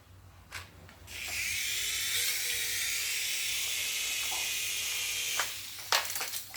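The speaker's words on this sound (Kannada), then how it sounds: "ಇದು ನನ್ನ ಹೆಲಿಕಾಪ್ಟರ್ ನೋಡ್ರಿ" A steady, high-pitched whirring hiss starts after a brief pause, holds for several seconds, then cuts off, like a small toy rotor spinning close by.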